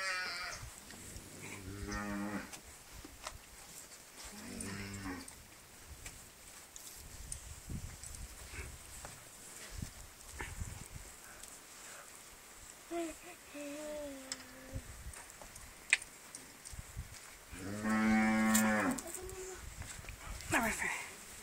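Cows and a calf mooing at a farm, with several low lowing calls early and a louder moo near the end, while people talk throughout over background noise.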